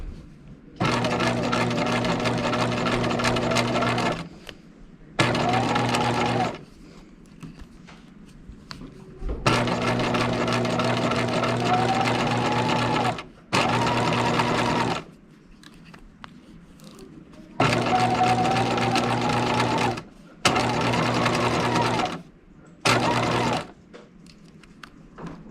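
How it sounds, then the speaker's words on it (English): A sewing machine stitches along a fold of ginger sailor pants in a series of loud, steady motor runs, several long bursts and shorter ones separated by brief pauses. "I'm just stitching right along this fold."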